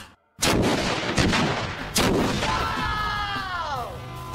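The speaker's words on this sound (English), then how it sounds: "Real world sewer explosion, best case scenario, sparking in 3" A simulated sewer explosion set off during a MythBusters test bursts out as a loud, sharp blast, followed by a second boom and a long rumbling echo with whistling tones fading through the tail.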